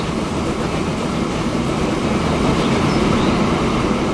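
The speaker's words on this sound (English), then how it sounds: "Sounds like we're on a high-speed train now." High-speed train rolling along in the Transport Fever game, a steady, loud rumbling roar with broadband hiss that holds evenly throughout with no talk over it.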